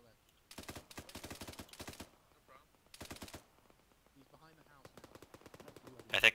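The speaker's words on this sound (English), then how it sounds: "I think they're shooting at him right now." Rapid bursts of automatic gunfire rattle through a military island-hopping video game battle, several fast volleys separated by short pauses, with faint radio-style chatter underneath.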